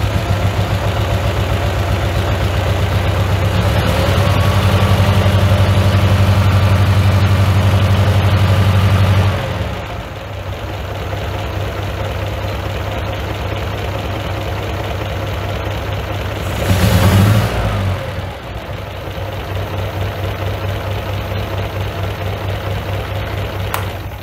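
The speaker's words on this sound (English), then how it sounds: "if I give it a few revs" A prewar Riley Brooklands replica engine idles steadily and loud, then is given a few revs: a deep low rumble drops off around ten seconds, with a brief blip of throttle near seventeen seconds before settling back to idle.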